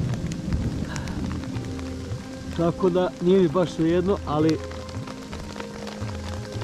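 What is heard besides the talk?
rain on a tent in a mountain camp, with thunder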